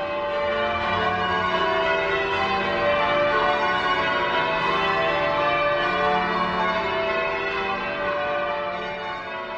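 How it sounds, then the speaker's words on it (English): Church bells in a tower ring the method Stedman Caters on nine bells, with the tenor covering in tenths place on every change; a dense, continuous wash of overlapping clangs and ringing harmonics, loud and steady throughout without speech. "They're ringing Stedman Caters, which means the method Stedman on nine bells."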